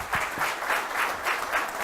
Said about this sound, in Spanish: un fuerte aplauso a los expositores